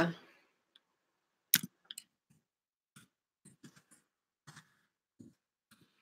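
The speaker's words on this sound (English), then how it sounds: "Just going to type a few things in the description box." Sparse, scattered clicks from typing a few words on a computer keyboard, with isolated taps and small clusters separated by silence.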